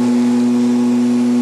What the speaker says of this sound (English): and the spindle comes on.